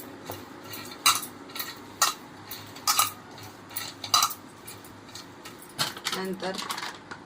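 Soybean chilli being stirred with ginger-garlic paste in a bowl: repeated light scraping and clinking of a utensil against the dish, irregular and close, while someone talks.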